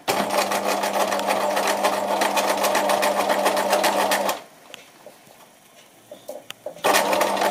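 A sewing machine stitches a hem with a fast, steady mechanical whirr. It stops briefly, leaving a few small clicks and handling noises, then starts running again.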